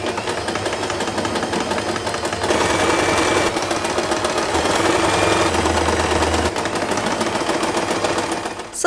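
A domestic sewing machine runs steadily, stitching fabric for a hair bow with long tails, a dense close mechanical whir that shifts pace slightly midway and stops abruptly at the end.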